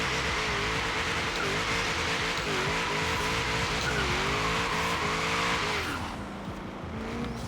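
A 1978 Ford Mustang II King Cobra in Forza Horizon 3 roars loudly under hard acceleration, its engine pitch climbing and dropping repeatedly through gear changes before easing off near the end.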